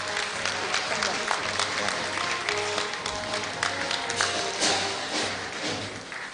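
Audience applause at Korea University's 109th degree conferment ceremony, a steady wash of clapping from a large crowd with speech and low thuds mixed in throughout.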